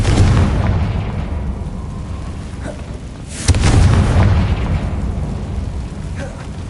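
A Confringo fire spell blasts in the Hogwarts Legacy video game, a loud booming explosion that rumbles continuously, with a second heavy burst swelling up midway through the roar.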